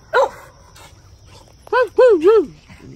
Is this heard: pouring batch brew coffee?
no